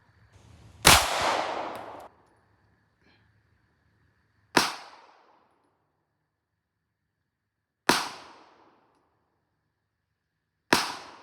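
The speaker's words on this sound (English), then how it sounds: "230 grain ball ammo, shooting at about 11 yards" Four loud, sharp reports from a Glock 30S Gen 3 .45 ACP pistol firing 230 grain ball ammunition at an outdoor range, spaced several seconds apart, each with a decaying echo tail and no talking.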